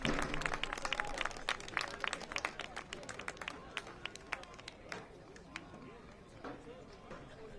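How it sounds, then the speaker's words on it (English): Stadium crowd at a pro soccer match applauds a goalkeeper getting back to his feet, a steady patter of many distant hands with scattered sharper claps, fading slightly over several seconds. "To much applause."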